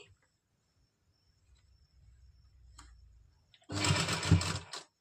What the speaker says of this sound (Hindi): यहाँ मैं पक्का कर लूंगी डबल स्टिच से।